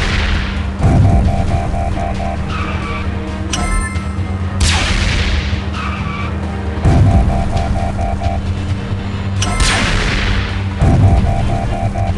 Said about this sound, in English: They're shooting at us!